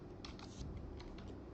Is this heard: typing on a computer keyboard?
yes